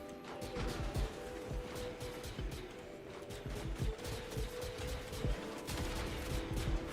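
Shotgun fire in the video game Fortnite: a dense, crackling flurry of gunfire and impacts that runs almost continuously at moderate volume.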